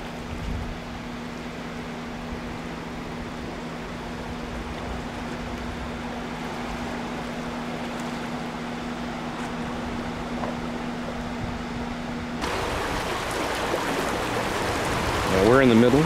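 Water rushing and churning through a giant concrete energy-dissipating structure at the Raccoon Mountain pumped storage plant, where it flows out into the Tennessee River. A steady, broad roar fills the whole clip and swells slightly louder toward the end.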